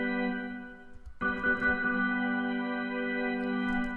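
A GarageBand grand organ sustains steady chord tones in the C3 octave range, with a second note entering just past one second to thicken the held sound, loud and alone.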